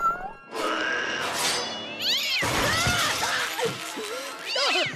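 A cartoon cat from the animated Big Hero 6 series meows several times in short, bending cries, mixed with a sudden crash and clatter, the sounds close and lively without clear speech.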